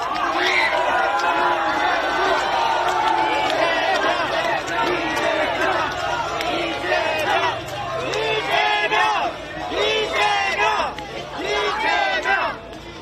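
A big outdoor crowd at a Korean election campaign rally cheers and shouts as party leader Lee Jae-myung arrives, a loud, dense roar of voices that swells in waves.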